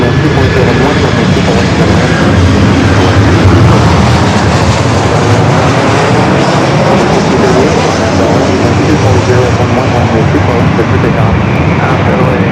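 A heavy Boeing 787 Dreamliner jet on an LAX runway gives off a loud, continuous engine roar, dense and rumbling, sustained evenly throughout at close range.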